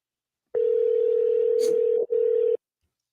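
A telephone dial tone sounds steadily while a call is being placed, holding for about a second and a half, breaking off briefly, then resuming for half a second before stopping, with a brief noisy burst partway through.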